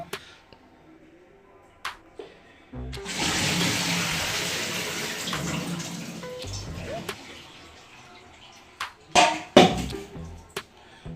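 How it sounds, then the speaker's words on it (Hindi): Water pours and splashes steadily as it is drained from cut cauliflower in a home kitchen, a running, hissing flow for several seconds, followed by a few sharp knocks and clatters. "गोभी का हम पानी निकाल देते हैं, तो पानी निखर जाएगा थोड़ा सा।"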